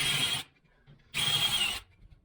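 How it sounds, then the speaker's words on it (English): A power drill boring into a curly maple canoe paddle, two close, loud bursts of whirring with a pause between, each lasting about half a second. "So I'm going to take my drill"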